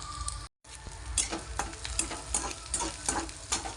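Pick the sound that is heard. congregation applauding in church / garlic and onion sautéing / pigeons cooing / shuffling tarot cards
garlic and onion sautéing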